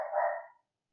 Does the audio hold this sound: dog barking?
yes